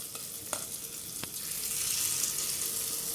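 Beaten egg paddu batter spooned into a hot paddu pan gives a soft, continuous sizzle that swells slightly toward the end, with a couple of faint clicks of the spoon; no voices.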